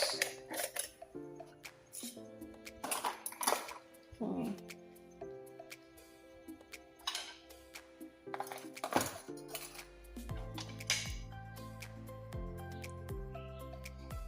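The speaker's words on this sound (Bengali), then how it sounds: "এই বড় বড় চামচগুলো এই জায়গায় রাখি" Large metal spoons set one after another into a kitchen spoon holder, light clinks and clatters at an uneven pace, close and fairly quiet.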